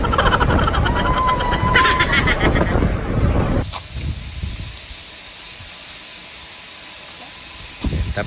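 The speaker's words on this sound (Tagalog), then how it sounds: "ang lakas ng hangin dito." Strong wind at a farm in Liaoning, China, roars and buffets the microphone for a few seconds, then drops to a quieter, steadier outdoor hush before gusting again at the end.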